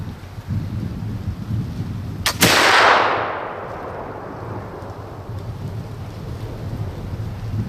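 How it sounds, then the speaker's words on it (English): A single flintlock muzzleloader shot cracks sharply in Pennsylvania woods during deer hunting, then rolls away in a long fading boom over steady wind noise, with no talking. "there's a far shot down through the woods"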